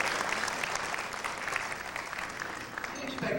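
A large dinner-dance audience applauds steadily, a dense continuous wash of clapping that holds evenly for several seconds without letting up.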